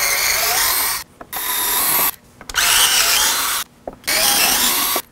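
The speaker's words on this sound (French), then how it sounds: "On a notre tournevis ou tournevis électrique avec la bite Torque 25 et on enlève les 4 vis." Electric screwdriver fitted with a Torx 25 bit whirring in four loud bursts separated by brief pauses as it backs out four screws, close up with no talking.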